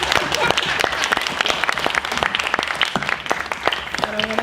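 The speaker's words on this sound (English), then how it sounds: "Can we give them applause, please?" Audience applause for the members of a Wilson alumni panel at the end of an evening event, dense steady clapping from a room of people, fairly close and sustained, with a few louder individual claps and a brief voice near the end.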